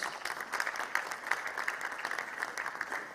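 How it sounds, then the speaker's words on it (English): Audience applause at a national youth symposium, a steady patter of many hands clapping at moderate loudness, continuous throughout with no speech over it. "A bigger round of applause."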